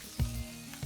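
Chicken wings frying in a masala spice mix in a pan, a brief close sizzle with soft bursts of crackle.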